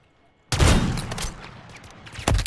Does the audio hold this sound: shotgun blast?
yes